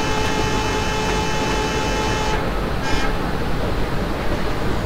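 An Indian Railways Bhusaval–Katni passenger train in the Open Rails simulator sounds a steady horn for about two seconds over loud, constant engine and running rumble.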